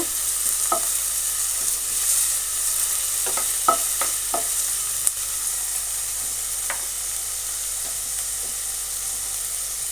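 Ingredients sauté in a hot pan with a continuous bright sizzle, punctuated by several sharp scraping clicks from a spatula stirring, close and steady without any voices.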